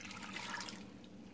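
A cup of water pours into a pot of carrots, a quiet splashing stream that runs for about a second and then trails off into a faint hiss, with no talking.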